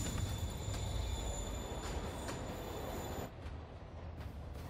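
A train pulls away in the video game Marvel's Spider-Man Remastered, its rumbling wheels and high squealing rail tones droning steadily before fading a little as it departs.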